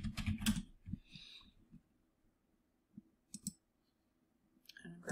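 Keystrokes on a computer keyboard while working in a design program: a few scattered, quick clicks and taps with long quiet gaps between them, fairly close but soft.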